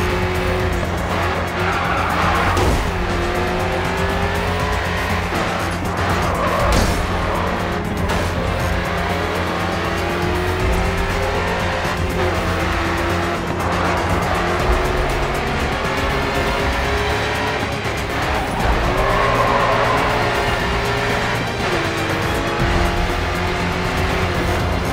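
Race cars in the Grid 2 video game roar through a race with sustained engine drone, repeated tire squeals and skids, and occasional cars passing by, loud and continuous throughout with no talking.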